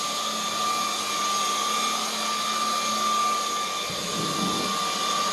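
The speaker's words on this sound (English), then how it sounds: "if you use the crevice tool, you can really vacuum in the dark" A cordless vacuum cleaner with its crevice tool attached runs with a steady, faint whine and a constant high tone, and a brief scuffing rumble comes near the end.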